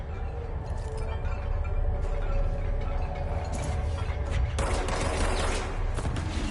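Gunfire in the video game Control, a dense rapid burst of shots over a steady game soundscape, loud and close, no talking.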